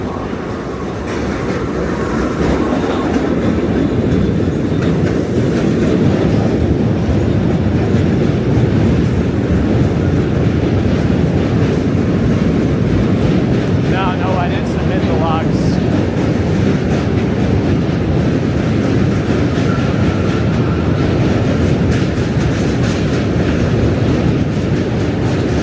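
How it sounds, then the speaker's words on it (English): A subway train rumbles loud and close across the Manhattan Bridge in New York, a steady heavy roar with metallic rail clatter sustained throughout, with no talking. "Another train's coming."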